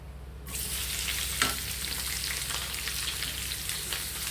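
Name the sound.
sautéing onion, curry leaves and green chili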